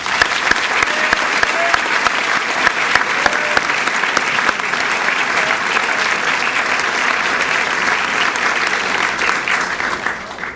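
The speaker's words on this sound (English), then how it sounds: "join me in giving a big round of applause to the sixth form" Sustained applause from a large audience at a school honors assembly, steady and dense clapping throughout, tapering slightly at the very end.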